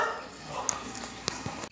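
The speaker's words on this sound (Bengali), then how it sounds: "কি সুন্দর কুকুরের বাচ্চা।" A puppy gives a couple of short, close yips and whimpers in a brief moment, over a light background hum.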